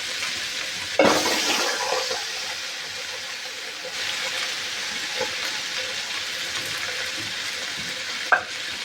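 Malabar spinach with long beans, potato and onion sizzles and fries steadily in a pan, with stirring clatter and a few sharp utensil knocks over the constant hiss.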